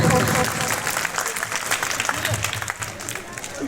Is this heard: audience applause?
yes